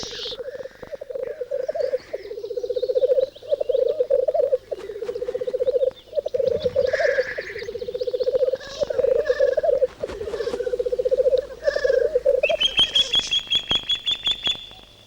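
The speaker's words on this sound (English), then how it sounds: "The blackcock lek is a yearly courtship ritual involving a great deal of huffing and puffing as the males sort out their pecking order." Black grouse males calling at a spring lek beside a loch, a steady run of bubbling, rolling coos that rise and fall in long phrases, with sharper hissing calls and other birds chirping over them.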